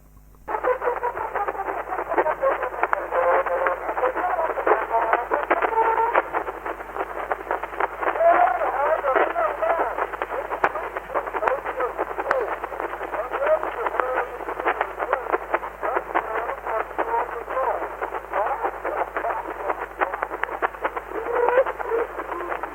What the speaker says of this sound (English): You play a trumpet, you make silly noises, and then you play it back